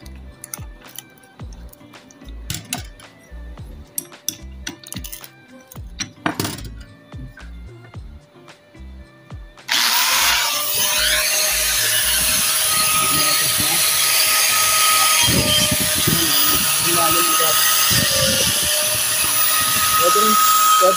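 An angle grinder fitted with a flat sanding disc starts about halfway through and gives a loud, steady high-pitched whine with a grinding rasp as it works a surface. Clinks and handling knocks come before it starts.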